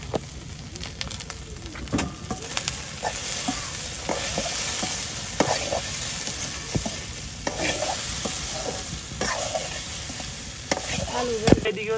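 Okra fries in a pan with turmeric powder in a village kitchen, giving a constant sizzle broken by frequent scraping and stirring clatter, close and clear.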